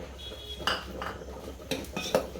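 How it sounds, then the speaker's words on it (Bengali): Sugar being stirred into Gobindobhog rice payesh in a pot, with a few distinct metal spoon scrapes and clinks against the pot over a low steady background, moderately close. "এইভাবে নেড়ে নিতে হবে,"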